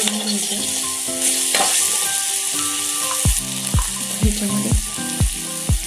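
Turmeric, chilli and garlic paste frying in a pan for kadhi, a loud bright sizzle under repeated rhythmic spoon strokes scraping and tapping the pan, growing busier toward the end.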